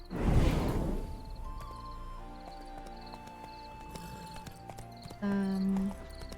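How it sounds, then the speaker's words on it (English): In the video game Witcher 3, a horse's hooves clip-clop in a steady, moderately quiet rhythm under game music and effects, with a short whoosh at the start and a brief louder tone near the end. "Spooking my horse."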